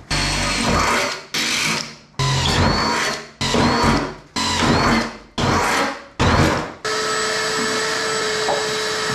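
A power drill whirs in seven short bursts with brief pauses, then runs steadily for a longer stretch, loud and close, drilling holes into a metal fuel tank.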